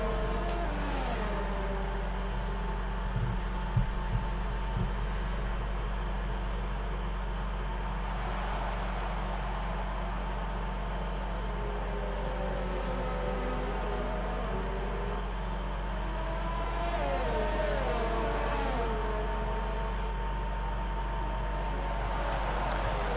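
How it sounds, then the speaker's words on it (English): Formula 2 race car engines in a PlayStation racing game at a USA circuit make a steady, whining drone for over twenty seconds, with pitch rising and dropping through gear changes and no talk. "Do you like that PlayStationGL engine noise?"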